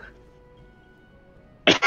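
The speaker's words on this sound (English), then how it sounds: "Oh, it was a cough. We couldn't tell." A weak cough, short and soft, rising out of near silence with two quick bursts at the very end.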